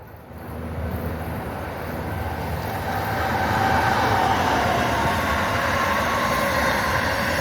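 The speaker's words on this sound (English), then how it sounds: "We got it on the middle rail. Acela coming down." A small model Acela train on a layout's middle rail rumbles past with a steady, rising rolling clatter, growing louder and staying close for several seconds.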